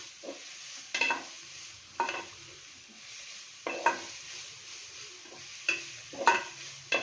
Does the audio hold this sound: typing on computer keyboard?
no